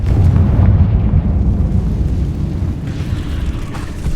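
A Confringo blasting spell explodes against a barricade in Hogwarts Legacy, a loud, heavy rumbling boom that stays dense and sustained for several seconds with no talk over it.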